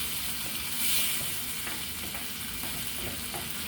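Creole sauce for red beans sizzles steadily in a pot while being stirred, a continuous close, bright frying hiss with faint scraping of the spoon, no voices.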